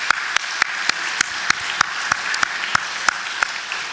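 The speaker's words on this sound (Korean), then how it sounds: "우리 한번 하나님께 영광의 박수를 한번 경배하겠습니다" A church congregation at a Christmas Sunday service claps together in a steady, even beat, each sharp clap standing out above a continuous bed of scattered applause.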